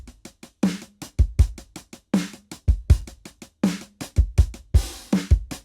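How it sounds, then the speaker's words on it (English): An EZdrummer 3 Tight Room drum kit, finger-drummed on a Korg microKEY controller, plays a tight, dry groove of punchy kick, snappy snare and crisp hi-hat hits in a steady repeating pattern, close and clear with no talking. "I have these drums that I put together from EZdrummer 3's Tight Room kit"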